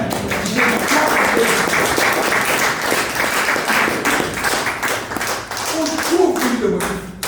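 A church congregation applauds the Lord, with steady, loud clapping that goes on throughout and voices mixed into the crowd noise.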